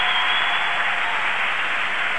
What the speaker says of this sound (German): Der Applaus ist verdient